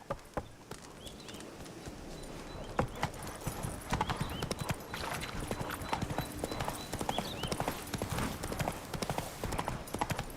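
Horse hooves clip-clop steadily in The Witcher 3 video game, a quick even rhythm of hoofbeats, fairly faint, that continues throughout.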